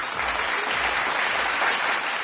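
Studio audience applauding on a Kannada TV show set, a dense, steady wash of many hands clapping at close range with no talk over it.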